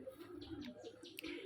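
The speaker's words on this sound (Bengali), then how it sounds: "পাশে কিন্তু কবুতরের ডাক শুনতে পাচ্ছেন আর পাখির কিচিরমিচির" Pigeons coo softly and steadily in a village mango orchard while smaller birds chirp and tweet in quick, bright bursts above them, all at moderate distance with no one talking.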